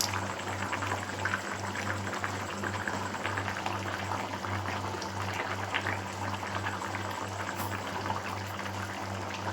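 Mushroom gravy bubbles at a steady rolling boil in a pan, a continuous dense simmering hiss with soft popping, close and even throughout with no talk.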